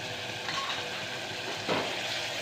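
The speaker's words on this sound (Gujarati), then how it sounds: "મસ્ત મજાનો વઘાર થઈ ગયો છે" A spice tempering with chilli, turmeric and salt for undhiyu sizzles in a pan as a faint, even hiss, with one brief swell of crackle partway through.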